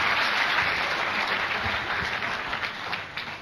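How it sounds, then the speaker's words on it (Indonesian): An audience claps and applauds for a motorbike at a talk, a dense, steady round of many hands that fades slightly toward the end. "tepuk tangan buat si motor itu dong"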